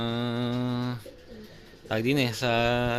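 Racing pigeons returning to the loft during a derby in Tarlac, giving loud close rolling coos that pause briefly and then resume, with no talk over them.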